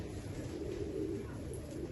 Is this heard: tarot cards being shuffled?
no